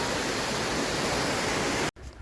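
Steady, dense roar of a waterfall beside the Appalachian Trail in November, a close, constant rush that cuts off abruptly near the end.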